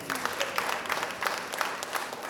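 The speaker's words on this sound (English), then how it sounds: "would y'all get Matt another hand clap" A conference audience applauds after a keynote, a steady patter of many hands clapping at moderate volume, with no talking.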